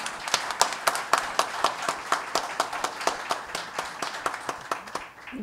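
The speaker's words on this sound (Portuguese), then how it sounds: "mais aplausos de boas-vindas à professora Ivete Valte" A small audience claps to welcome Professor Ivete Walty before her lecture. The claps are distinct and fairly regular, sharp and close, and they fade out near the end.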